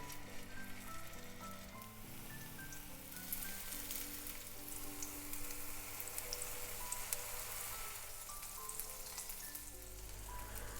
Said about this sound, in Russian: Обжариваю с одной стороны и переворачиваю на другую сторону.